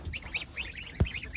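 Young guard geese on a farm honk in a quick series of nasal calls at moderate volume, with a single low thump near the end.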